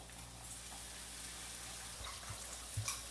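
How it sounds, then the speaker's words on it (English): Angostura bitters and a splash of Chilean Carmenere red wine hit browned onions in a pan, making a faint, steady watery hiss with a few soft splashes near the end, with no talking. "what I can do is I can add the angostura bitters and a splash of cheeky red wine"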